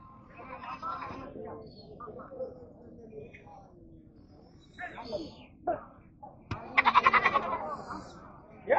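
Goats bleat at a busy goat market, a few short calls and one louder quavering bleat standing out near the end, mixed with crowd murmur and people talking nearby.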